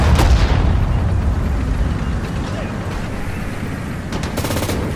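A World War II battle at Guadalcanal in the Sudden Strike 4 strategy game, with heavy gunfire and booming blasts up front, then a steady rumble of combat with rapid bursts of shots near the end.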